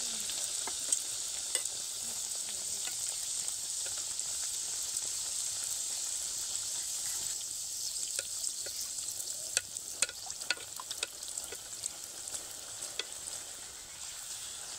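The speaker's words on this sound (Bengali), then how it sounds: "ওদিকে লুচিগুলো ভাজা হতে হতে এদিকে আমি একটা একটা করে বেলে নিচ্ছি" Meat-stuffed luchi frying in oil, giving a soft continuous sizzle close by with scattered crackles and light stirring or handling clicks, no voices.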